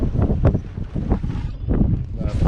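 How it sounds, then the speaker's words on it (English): Strong wind buffets a boat out on Blackwater Sound near Key Largo, Florida, during a fishing trip, a steady, loud rush and rumble of gusts hitting the microphone. "It's a real windy day today."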